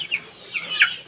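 Native free-range chickens give a few short, close clucks in quick succession within about a second, with no voices present.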